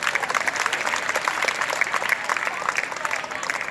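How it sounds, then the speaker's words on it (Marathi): An audience at a retirement ceremony for a college principal breaks into steady, loud clapping, a dense crowd applause sustained for a few seconds. "याच्यासाठी सर्वांनी एकदा जोरदार टाळ्या वाजवाव्या"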